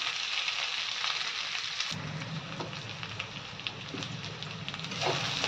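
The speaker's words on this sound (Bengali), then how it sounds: "তো এই জন্যে আমি আলুটা পেঁয়াজের সঙ্গে ভেজে নিচ্ছি লালচে করে।" Potatoes fry with onions in a pan, giving a dense, steady sizzling hiss. Partway through it grows fuller and louder, with scattered crackles and pops, close up and with no talk.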